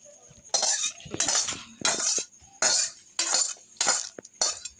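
A spicy Bengali small-fish chorchori with mixed vegetables is spooned out of the pan into a dish in about seven distinct bursts of metallic scraping and clinking, separated by short quiet gaps.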